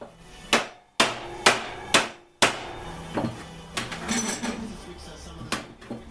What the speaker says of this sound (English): dolly just to sharpen up the edge